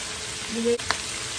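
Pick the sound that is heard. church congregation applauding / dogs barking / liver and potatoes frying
liver and potatoes frying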